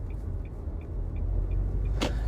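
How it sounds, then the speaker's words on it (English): Steady low rumble of a car interior while driving, a constant engine and road drone with a faint repeating high tick, and a brief brighter swish near the end; no talking. "you can hear probably all the ambiance of the driving and the car sound in the background"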